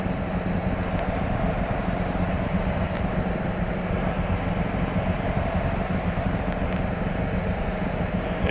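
Steady drone of a Robin TB9 light aircraft's propeller engine in flight, loud and close from inside the cabin, a constant broadband roar with a thin high whine running unchanged throughout.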